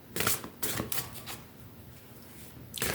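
Crisp riffling bursts of oracle cards being shuffled, three quick flurries close together then a pause before another, close and fairly quiet.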